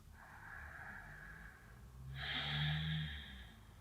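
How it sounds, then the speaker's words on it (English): Slow, deep yoga breathing sits close to the microphone: a long airy inhale, then a fuller, louder exhale with a rough, slightly nasal edge, all quiet and unhurried. "Deep breaths."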